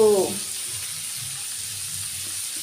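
Onion stalks and fish heads sizzle steadily in a wok, a constant close frying hiss that runs through the whole moment after a brief tonal scrape at the start.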